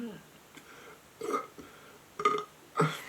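A person burps close to the microphone, letting out three or four short, throaty eructations of rising strength in a quiet room, with a faint vocal murmur between them.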